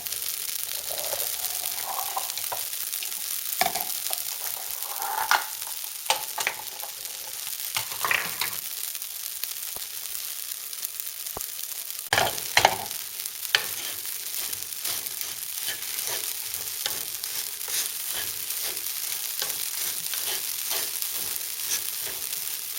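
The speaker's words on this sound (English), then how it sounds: "I'm going to saute the salt with the Szechuan peppercorn." Salt with Szechuan peppercorns and star anise sautéing in a pan, a steady close sizzle broken by occasional scraping and clunking stirs.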